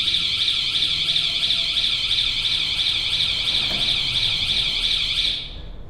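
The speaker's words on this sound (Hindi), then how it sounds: "ये अलार्म है, ये फॉल्ट अलार्म है। ये ऑन भी होता है और ये बजता भी है।" Fault alarm on an automatic powder packing machine: a continuous, loud, high-pitched electronic buzz that holds steady for several seconds and then cuts off abruptly.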